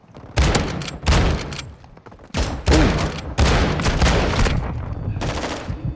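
Mark II rifle fire in the video game Modern Warfare II comes in loud, dense bursts, several rapid volleys separated by brief pauses, with overlapping shots and heavy low thumps.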